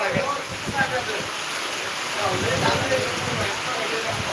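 Steady, dense rain hisses and patters across the whole clip, with faint, indistinct voices murmuring underneath.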